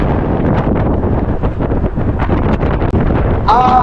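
Strong, gusty wind at sea buffets the microphone in a continuous roar during a fishing trip, with water and boat noise mixed in beneath.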